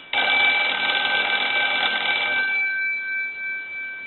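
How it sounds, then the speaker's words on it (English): A Kellogg Red Bar rotary telephone under repair rings its bell loudly and continuously for about two seconds, then the ring fades away into quiet. "I'm going to go ahead and ring the telephone"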